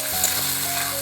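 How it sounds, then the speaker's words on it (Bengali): Spice paste frying in a pan, a dense steady sizzle with soft stirring, close and continuous for a short moment. "মশলাটা কষিয়ে নিচ্ছি"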